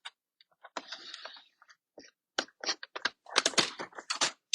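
Cutting a section out of card stock for a backbend easel card: close, crisp snipping and scraping bursts in an irregular series, sparse at first and then denser, with no voices.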